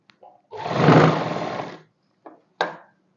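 A sewing machine stitching the shoulder seam of a kurti runs in one burst of about a second, whirring up and trailing off, followed by a couple of short clicks and knocks.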